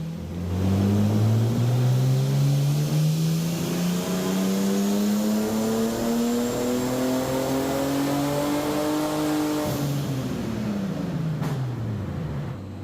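A turbocharged BMW E36 engine revs up steadily under load on a dyno, its pitch climbing for several seconds before dropping off, loud and close with no talking.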